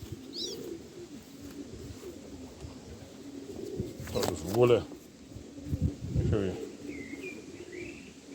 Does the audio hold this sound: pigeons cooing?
yes